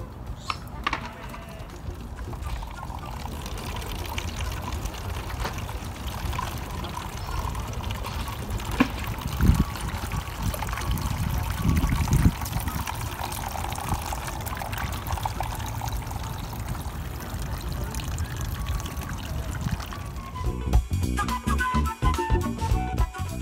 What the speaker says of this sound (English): Now it's time to test our water fountain.